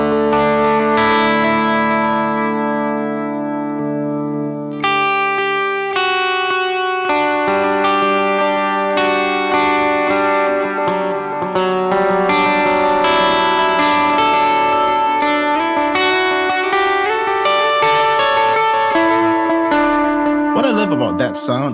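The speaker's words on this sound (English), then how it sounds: "Let's try adding the reverb." An electric guitar plays a melodic line through a reverb effect on an M-Vave Blackbox, notes ringing out and blending into a lingering wash, loud and up close.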